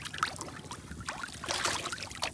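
A boat out on the water at night during prawn fishing, with steady washing and splashing of water against the hull and a few brief louder surges, close by and with no talking.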